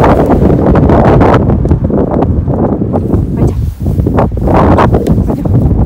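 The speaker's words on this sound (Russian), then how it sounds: "О, какой ветер." Strong gusting wind buffets the microphone outdoors, making loud, continuous low rumbling that swells and dips for several seconds with no clear speech.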